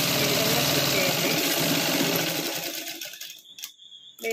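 Domestic sewing machine running fast while stitching cloth along the edges, a dense mechanical whirr with rapid needle chatter that slows and stops partway, leaving a few light clicks and handling noises.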